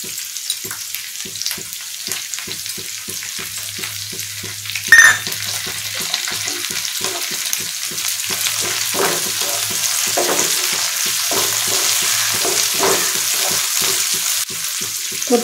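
Ivy gourd fries with curry leaves added to the pan, making a continuous close sizzle with a sharp burst as the leaves go in and rhythmic stirring scrapes afterward.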